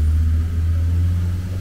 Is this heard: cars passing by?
yes